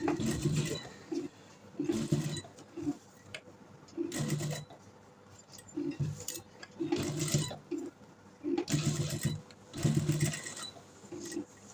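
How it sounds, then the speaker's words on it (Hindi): A sewing machine stitches a round neck design on fabric, running in short repeated bursts of rapid mechanical whirring with brief pauses between them and no voice over it. "ये सिलाई हमने इस तरह गोल गोल इसको घुमा कर लगानी है।"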